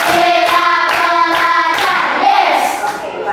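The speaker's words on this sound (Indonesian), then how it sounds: "Tepuk 1. Tepuk 2. Tepuk 3. Tepuk 4. Tepuk 5." Students in a classroom clapping in a counted rhythmic pattern, sharp grouped hand claps in quick bursts, close and loud, with children's voices chanting along over the claps.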